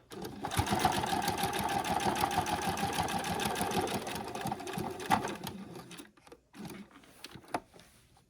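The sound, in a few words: sewing machine basting backpack straps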